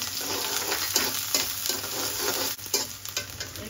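Chopped onion hits hot mustard oil with bay leaf and whole cumin in a pan, giving a loud continuous sizzle with repeated stirring scrapes close by.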